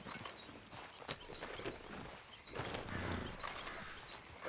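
Horse hooves clip-clop at a walking pace in Red Dead Redemption 2, a faint, fairly regular beat that grows a little louder toward the end.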